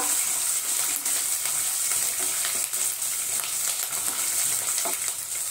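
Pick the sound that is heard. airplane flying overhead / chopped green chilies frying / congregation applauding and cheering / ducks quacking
chopped green chilies frying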